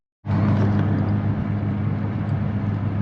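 Audi B9 S4 fitted with an AWE Track Edition exhaust, a deep steady rumble that starts abruptly and holds at a constant drone from inside the moving car, moderately loud.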